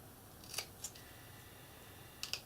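Scissors snip a small trim off adhesive-backed material for a French country portal build, four quick crisp cuts in two pairs, close and fairly quiet, with no talking.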